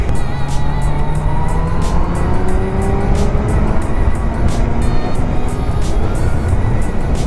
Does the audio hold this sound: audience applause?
no